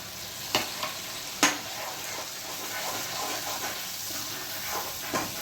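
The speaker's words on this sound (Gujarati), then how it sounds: "હવે એમાં હું આ ટમેટા નાખું છું." Tomatoes and tomato gravy going into a pan of browned ingredients for a Punjabi sabji, giving a steady close sizzle and frying hiss with a few sharp stirring clinks against the pan.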